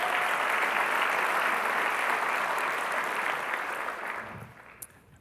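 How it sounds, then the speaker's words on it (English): Audience applause at a 2017 SAMCEDA THRED Talks event, a dense wash of many hands clapping, steady and fairly loud before thinning out and fading near the end. "Can we get a round of applause one more time for Al?"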